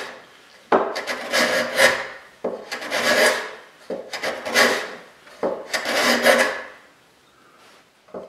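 A freshly sharpened hand plane shaves pine in four rasping strokes, each a brisk scraping swish with short pauses between, close and clear with no talking.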